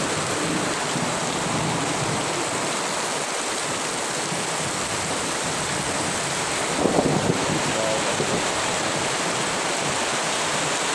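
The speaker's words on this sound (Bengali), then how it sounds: "অনেক বাতাস, বৃষ্টির সাথে অনেক বাতাস হচ্ছে" Heavy rain with strong wind beating on a tin roof, a constant loud hiss and roar, with a brief rougher gust-like swell near the middle.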